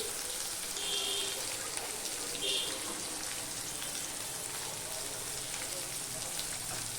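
Chopped onions dropped into hot oil with garlic for a pabda fish curry, giving a steady, close sizzle that hisses continuously with a couple of brief brighter spits.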